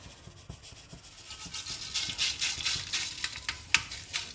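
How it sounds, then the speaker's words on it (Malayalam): Mustard seeds crackle and pop in hot oil as the first step of a mango-ginger pickle. The close, faint sizzle rises into dense irregular pops and spatters, with no talk. "നമുക്ക് ഒന്ന് കടുകൊന്ന് പൊട്ടിച്ചെടുക്കാം"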